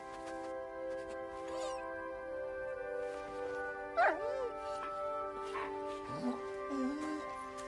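Mutt the dog in Kingdom Come: Deliverance II whimpers and gives short, high yelps close by, against a steady tonal musical drone, with a voice speaking alongside.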